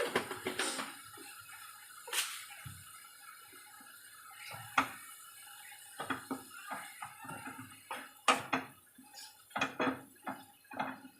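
Radish greens with red lentils being stirred in a pan, heard as sparse metallic scrapes and clinks of a spoon against the pan, spaced irregularly and close up, with quiet gaps between them.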